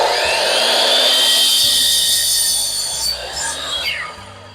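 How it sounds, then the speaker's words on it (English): Power tool cutting soft wood while cleaning up the edge of an end table piece, a steady loud high whine for most of the stretch that falters and trails off near the end, with faint background noise. "Boy, this soft wood sure cuts a lot easier than some of the hardwood I've been cutting."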